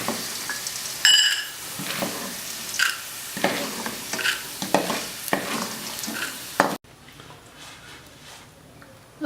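Soybeans fry in a pan with a steady sizzle. A utensil stirs them in bursts of scraping and clattering, and the sound grows quieter near the end.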